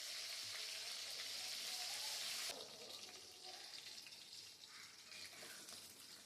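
Curry leaves are dropped into hot oil and sizzle with a bright, hissing crackle at first. The frying then settles into a softer, uneven spatter, faint and without talk.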